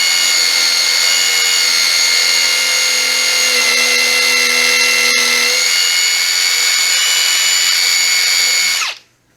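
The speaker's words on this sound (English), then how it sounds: "It blew away the dust as I was drilling it." A loud, steady high-pitched whine from an impact driver with a blower attachment drilling continuously for several seconds, an airy rush of blown sawdust behind it, then abruptly winding down.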